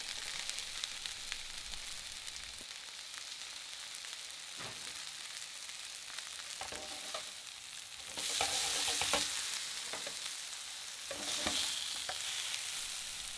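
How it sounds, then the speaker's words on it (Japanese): White asparagus spears sautéing in olive oil in a hot frying pan, a steady close sizzle that surges louder in bursts as the spears are moved and turned, with no talking. "水気を切ったアスパラガスを入れてソテーしていきます"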